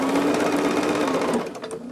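A sewing machine stitching a quilt runs in a close, steady whir for about two seconds, easing off slightly at the end, with no talking.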